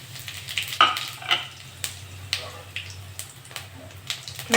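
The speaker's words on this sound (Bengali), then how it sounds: "তেলটা গরম হয়ে গেছে, আমি গোটা জিরে আর শুকনো লঙ্কা দিয়ে দেবো।" Whole cumin seeds and dried chillies hit hot mustard oil in a pan, a close, crackling sizzle with irregular sputtering pops and soft scraping, the bursts rising and falling.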